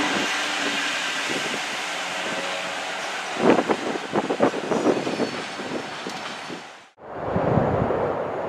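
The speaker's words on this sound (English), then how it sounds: "Here comes my train." A London Midland Class 170 diesel multiple unit, number 170 514, pulls in on a Birmingham New Street service. Its loud rumble and rattling clatter build over several seconds, wind buffets the microphone, then the sound drops out briefly and resumes close by.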